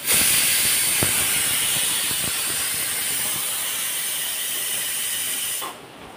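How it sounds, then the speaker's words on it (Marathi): A kitchen pressure cooker releases steam through its whistle as a loud, continuous hiss that holds steady for over five seconds, then cuts off abruptly near the end. The sound is close, with faint clicks underneath and no talking. "कुकरच्या पण शिट्ट्या झाल्यात. एक शिट्टी घेते आणि बंद करते"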